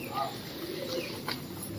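Soft pigeon coos from a loft of several hundred kept pigeons, a few low rounded calls close by over a quiet hiss of background noise.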